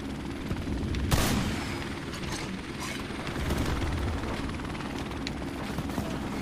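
Helicopter in Call of Duty 4 Modern Warfare Remastered, a steady rotor drone with mechanical clatter under game effects, including a sharp impact near the start, with no talk.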